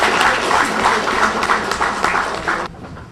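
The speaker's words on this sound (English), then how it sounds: "Give yourselves a round of applause." An audience at a leadership workshop applauds, a dense, even wash of clapping hands that holds steady for a few seconds, then cuts off abruptly, leaving near silence.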